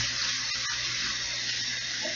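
Water being poured steadily from a tap-like stream into a mixture for a chocolate whey protein bake, a continuous close hissing splash without pause and no talking.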